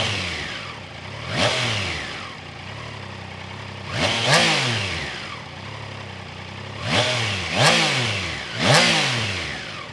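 Triumph Tiger Sport 660 motorcycle with its three-pipe exhaust, revving up loudly four times in sharp rising-and-falling bursts over a steady idle, close by and without voices.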